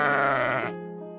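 A single sheep gives one loud, close, wavering bleat lasting under a second, then a faint lower tail trails off.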